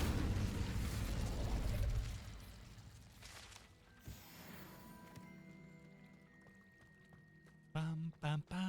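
An Incendio fire spell cast in Hogwarts Legacy: a loud whooshing, roaring burst at first that fades into crackling and mechanical clinks, followed near the end by a few short voiced syllables.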